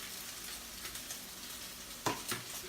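Egg white heating in a pan with bacon, a faint steady sizzle, quiet throughout, broken near the end by a couple of soft utensil knocks.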